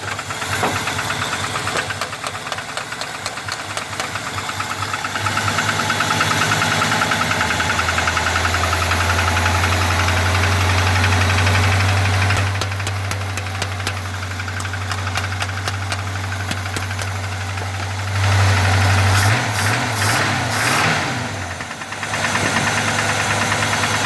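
A turbo 305 engine in a 1987 GMC idling with a steady rhythmic knocking, close and continuous, with a brief revving swell near the end.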